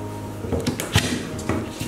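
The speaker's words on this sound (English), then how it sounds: "this is a three-fold push open drawer slide" A three-fold push-open, full-extension drawer slide opening, heard as a few close, sharp clicks and sliding knocks in quick succession over under two seconds, without speech.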